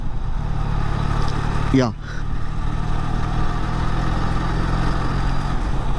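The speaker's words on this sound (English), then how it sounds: "the engine is not lugging at even 39-40, but you know, the sound tells you that, you know what, you should shift" A QJ SRK400 motorcycle engine pulling at low speed in gear, around 39–40: a steady, close mechanical drone. A passing whine interrupts briefly partway through, and a voice says a single word.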